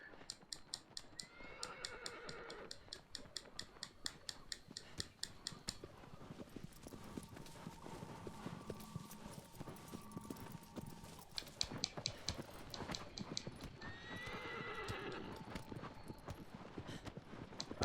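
Rapid rhythmic hoofbeats of a galloping horse in the video game Shadow of the Colossus, crisp and steady, with a couple of whinnies and some background music throughout.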